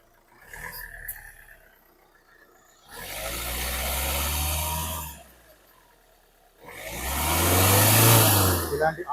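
Hyundai i20 Sports 2019 diesel engine running, a low idling rumble broken by two longer swells as it revs up, with someone talking at the start.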